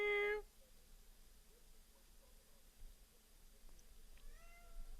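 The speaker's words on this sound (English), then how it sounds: "Meow. Meow. Meow." A cat gives a short, clear meow at the start, then a fainter meow near the end over quiet background noise.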